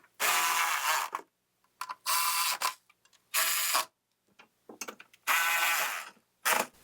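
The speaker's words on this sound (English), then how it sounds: "Tighten up those 4 cover bolts." Carburetor cover bolts on a Toro with a Kawasaki engine are tightened with a ratchet: five or six loud bursts of rapid clicking, each about half a second to a second long, separated by short silent pauses.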